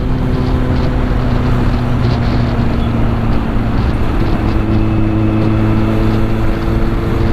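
Kawasaki Z800 motorcycle engine idling with the clutch held in while riding, a steady low droning hum under wind rush, close and loud, no talking.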